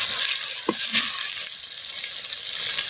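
Ginger garlic paste sautés in sesame oil for a guinea fowl fry, a bright steady sizzle close by, with a couple of quick stirring taps near the start.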